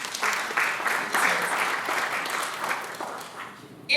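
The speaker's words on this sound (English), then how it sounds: "yes, you can clap for him one more time." An audience at a reparations panel discussion claps for a panelist, a moderate burst of applause that slowly fades over a few seconds.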